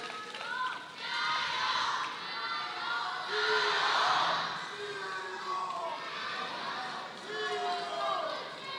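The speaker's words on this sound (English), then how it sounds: "I thought people were cheering for Timo" Spectators at a 2017 Men's World Cup table tennis match between Ma Long and Simon Gauzy cheer and shout in loud surging waves, with a commentator's voice talking over the crowd noise.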